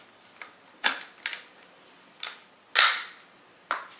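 Sharp plastic clicks from the button on a VFC PDW airsoft gun, about six short snaps at uneven intervals, close and fairly quiet, with no talking.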